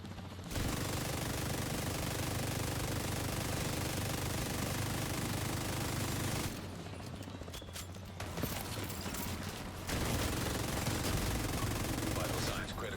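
Sustained bursts of LMG machine-gun fire in The Division 2 shooter game, loud and rapid, with a short pause near the middle before firing resumes; a voice talks faintly beneath.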